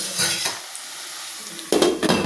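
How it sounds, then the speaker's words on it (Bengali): Potatoes fry in hot oil and are stirred, a close sizzle broken by the scrape and clatter of a utensil against the pan, no voices. "তেল গরম হয়ে গেছে, আলুগুলোকে সুন্দর করে ভেজে নেব।"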